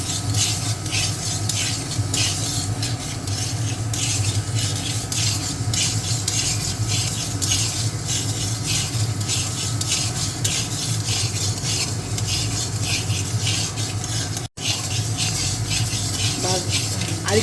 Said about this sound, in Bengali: আগে মুগ ডালটাকে ভেজে এই দেখুন ভাজবো, কড়াইটা বসিয়ে দিয়েছি।